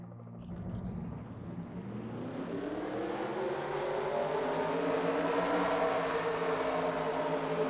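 Several race car engines fire up at Darlington for the Southern 500 in a racing video game, a steady, loud droning roar that swells and rises in pitch over several seconds, with no talk.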